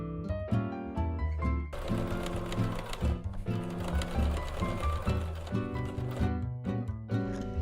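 Sewing machine stitching straight along the folded, pinned top hem of a fabric tote bag, a rapid mechanical rattle in short bursts and longer runs separated by brief pauses, close and clear with no talk.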